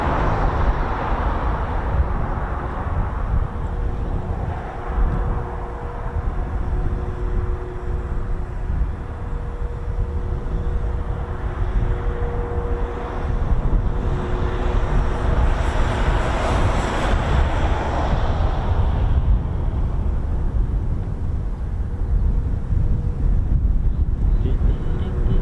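A C-17 military transport with four Pratt & Whitney engines rumbles at RAF Mildenhall, a broad, distant roar that swells and fades over about twenty-five seconds, with faint tonal whines and some wind buffeting on the microphone.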